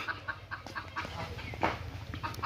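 Caged poultry-farm chickens cluck softly in short, scattered bursts nearby, with a low rhythmic hum running underneath.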